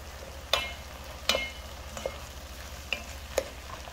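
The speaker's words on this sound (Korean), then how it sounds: "양파가 어느 정도 볶아지면은 여기에 다 같이 한번더 볶아주세요." Onions and vegetables stir-fried in a pan for curry, a soft continuous sizzle broken by a handful of scraping stirs and clinks at irregular intervals, close by.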